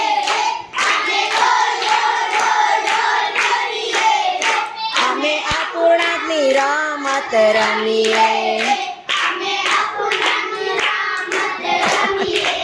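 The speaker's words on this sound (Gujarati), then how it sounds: "ચલો ગાઓ, તાળી પાડીને ગાઓ" Children singing a Gujarati classroom counting-game song together while clapping hands in a steady rhythm, close and loud, in a primary school fractions game; the singing voices carry throughout over the regular claps.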